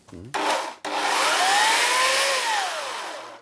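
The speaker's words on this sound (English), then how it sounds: "turning on this large 10-amp chainsaw will reveal it" A brief motor burst cuts off, then a large 10-amp electric chainsaw whines up to a steady high-pitched roar that drifts slightly in pitch and holds loud.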